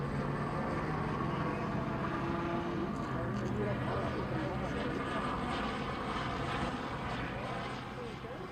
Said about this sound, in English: Helicopter's just so loud